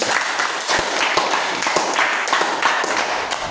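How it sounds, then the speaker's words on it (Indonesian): Applause from a training-session audience for a participant, a steady dense wash of many hands clapping with occasional louder individual claps, continuous and moderately loud throughout. "Berikan aplaus dulu untuk Nona Vinci."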